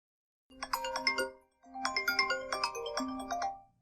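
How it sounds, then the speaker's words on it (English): A melodic phone ringtone for an incoming call plays alone in two clear bursts of chiming tones separated by a short pause. "Oh, Matt, it sounds like we're getting a phone call from the internet."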